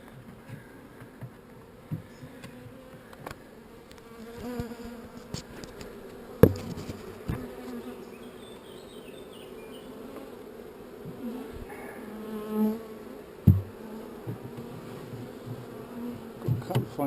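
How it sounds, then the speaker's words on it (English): Honey bees swarming around an open Layens hive, a dense continuous buzzing hum close by, with occasional sharp clicks and knocks of frames being handled. "Of course, I've got a lot of bees down here"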